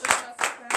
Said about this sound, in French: levez-vous sur vos pieds et donnez l'acclamation à Jésus